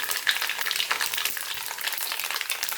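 Mustard seeds and then cumin seeds fry in hot oil in a kadhai, giving a steady, crackling sizzle with small pops throughout, close up and with no talking.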